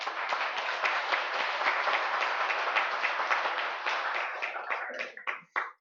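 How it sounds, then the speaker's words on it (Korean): Congregation applause at a Sunday church worship service: steady, dense clapping from a large crowd, loud and sustained for about five seconds before thinning into a few scattered final claps. "우리 하나님께 감사의 박수 한번 올려드립시다"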